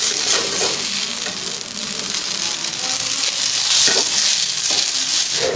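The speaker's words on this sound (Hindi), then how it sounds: "देखिए चाउमीन हमारा फ्राई हो रहा है।" Veg chowmein noodles fry in a hot pan with a loud, steady sizzle throughout, with occasional soft stirring scrapes over the constant hiss.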